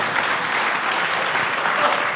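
A concert audience gives dense, continuous applause for local singers and a band at a Tamil community cultural event, the clapping steady and full throughout.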